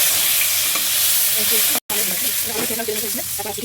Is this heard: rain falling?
no